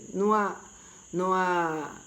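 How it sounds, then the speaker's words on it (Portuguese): Frogs beside a lagoon in Maceió croak in two long, nasal, harmonic calls about a second apart, close and fairly loud against a faint steady insect hum, with no speech. "Mas são sapos, né? Que eu moro aqui na beira de uma lagoa, aqui em Maceió."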